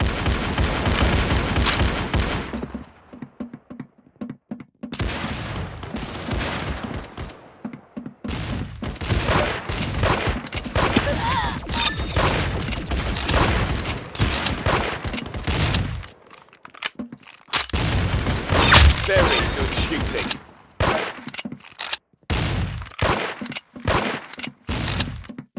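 Dense video game gunfire, loud rapid bursts of shots packed together in long stretches with short silent gaps between volleys.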